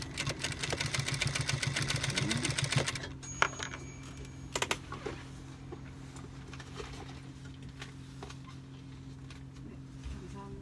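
A sewing machine stitching a cut jeans hem at a tailoring lesson runs in a fast, steady mechanical patter for about three seconds, then stops, leaving faint low hum and a few small clicks.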